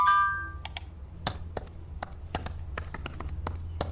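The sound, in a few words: simulated sound of someone breaking into a business's computer systems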